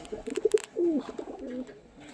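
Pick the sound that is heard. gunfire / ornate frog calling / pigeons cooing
pigeons cooing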